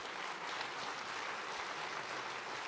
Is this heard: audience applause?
yes